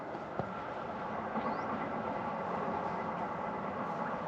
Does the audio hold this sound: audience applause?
no